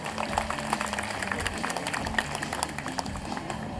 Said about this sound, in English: Now let's give Mishka a really big round of applause.